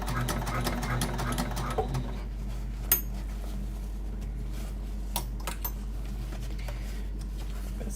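A sewing machine top stitching a bag runs in a fast steady whir for about two seconds, then stops, followed by scattered light clicks and taps of handling fabric.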